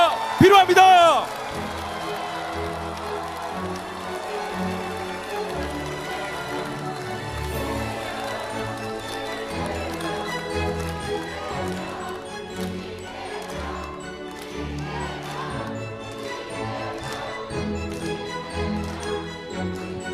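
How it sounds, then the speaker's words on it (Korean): An audience claps and cheers at a Democratic Party political concert in South Jeonnam as party leaders are introduced, a steady, moderately loud wash of applause and crowd noise with a voice talking over it. "큰 박수가 필요합니다."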